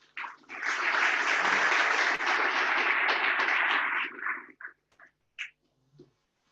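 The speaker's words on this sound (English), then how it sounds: "big applause for Georgi." An audience at a tech talk in Tallinn applauds steadily for about four seconds, then the clapping tapers into a few scattered, isolated claps.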